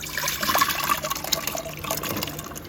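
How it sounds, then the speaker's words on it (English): Cold water running into a pan of potatoes cut into small cubes in a home kitchen, a steady close pouring splash with light trickling, no talk. "I also have my potatoes cut up in cubes. Putting them in some cold water."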